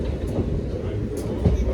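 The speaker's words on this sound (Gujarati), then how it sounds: "ટ્રેનમાં આવી ગયા છે જે કહો નજારો છે ભાઈ ટ્રેનનો." A passenger train rolls along on the route from Surat toward Omkareshwar, a loud continuous low rumble of wheels and carriage with faint clatter, heard from inside the coach.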